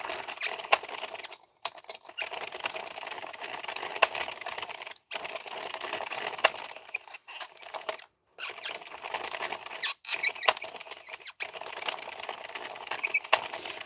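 A home knitting machine works across rows, giving steady clattering carriage passes broken by short pauses between strokes, close and fairly quiet, with no talking.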